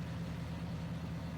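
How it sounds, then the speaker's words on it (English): A tractor or truck engine in Farming Simulator 19 runs at a steady low idle. The rumble is even and continuous, with no other sounds over it. "Nice engine startup sound."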